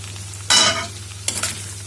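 Potato pieces cooking down in coconut milk in a pan give a low simmering hum, with two bursts of bright sizzling and scraping as they are stirred.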